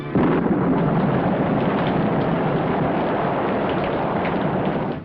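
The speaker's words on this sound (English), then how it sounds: "Down came a thundering torrent of rain." Cartoon thunder rumbles into a dense, roaring torrent of rain, loud and unbroken from start to finish with no voices.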